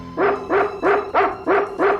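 A dog barks six times in a steady, evenly spaced rhythm, loud and close, in a G.I. Joe toy commercial.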